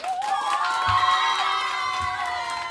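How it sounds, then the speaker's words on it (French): A game-show studio audience cheers and shouts, with excited high voices over a faint patter of clapping, sustained loudly throughout the short burst. "Applaudissez bien, bien fort."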